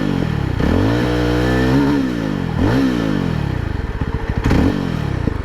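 A 2024 Yezdi Roadster motorcycle with dual exhausts, revved loud and close in several sharp blips that rise and fall over a burbling idle, with clattery mechanical ticks between throttle bursts.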